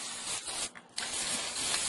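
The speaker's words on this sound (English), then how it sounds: "I'm spraying just inside of the carving, not necessarily on the outside, but you see that I'm spraying that in there" A spray can hisses paint into the carved letters of a wooden sign in two close, fairly quiet bursts separated by a brief pause.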